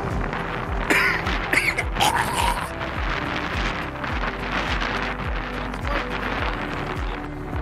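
Wind buffets the microphone at a jetty by the water, gusty and continuous, with faint creaks and rustling throughout and no talking.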